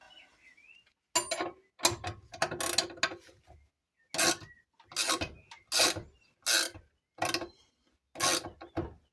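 Ratchet wrench tightening a threaded rod on the anti-torque engine mount of a Peugeot 205 GTI: bursts of rapid metallic clicking in uneven strokes with short pauses, close and loud, no talking.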